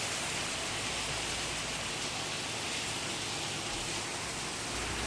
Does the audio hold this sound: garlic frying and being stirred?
no